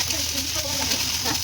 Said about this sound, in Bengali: ঢেকে ঢেকে ভেজে নিতে হবে